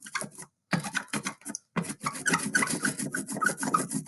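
A brayer rolls ink across a styrofoam printing plate, giving repeated soft, even shushing rasps in close strokes with two brief pauses between passes.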